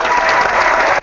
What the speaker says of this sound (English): That's some applause